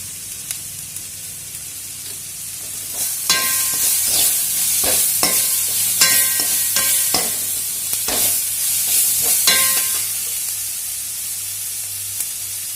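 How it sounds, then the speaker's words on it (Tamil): Potato filling for bondas sizzles loudly in a hot pan with a steady hiss, while a spoon scrapes and stirs it in irregular bursts, close up and with no talking. "நல்லா ஃப்ரை ஆகிட்டுருக்கு"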